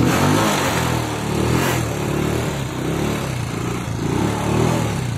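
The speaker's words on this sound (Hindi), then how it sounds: "अभी हम अपनी बाइक को स्टार्ट करेंगे।" A motorbike engine idles and revs with a steady, loud mid-range rumble that rises and falls slightly throughout.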